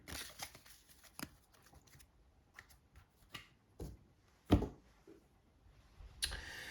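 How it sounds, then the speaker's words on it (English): A deck of game cards for a Resident Evil 3 board game is shuffled by hand, giving scattered soft riffling clicks and slaps with a few sharper snaps, close and quiet. "we'll just shuffle our lovely, horrible tension deck"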